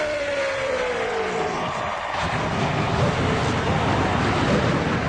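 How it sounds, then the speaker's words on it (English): Forty-one race car engines fire up together at Michigan Speedway, building from a thin high whine into a dense, continuous roar that holds steady and loud to the end. "the thunder of 41 engines comes to life at Michigan Speedway"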